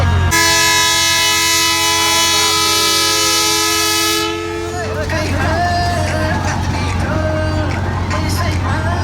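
A toy train ride at a Nepali fair (mela) sounds a long, loud, sustained horn tone that stops midway, then clattering ride noise and a busy crowd carry on around it.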